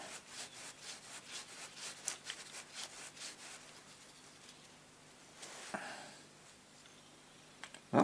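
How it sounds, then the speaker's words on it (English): Steady close rubbing and scraping as turntable parts from an Aristone tabletop radiogram are cleaned with alcohol, a rag and a screwdriver, with rhythmic strokes and a brief sharper clatter near the end. "a bit of squirt alcohol, a little rag, and a screwdriver. Just clean the crap out of it."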